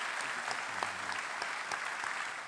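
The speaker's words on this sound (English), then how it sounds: "So please give him a round of applause." A sheriff's awards ceremony audience claps steadily for a deputy honored as Florida's deputy of the year, a dense, even round of applause with no speech.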